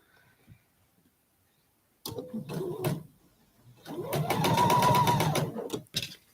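A sewing machine stitches quilt block fabric in short runs, first brief bursts of rapid needle clatter, then a longer steady whirring run, close and alone with no talking.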